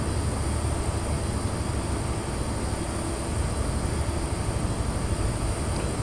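A Class 43 train passes on the Great Western Main Line, heard as a steady, loud broadband roar and rush that holds without letup for the whole stretch.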